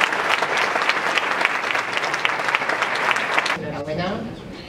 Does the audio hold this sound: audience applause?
yes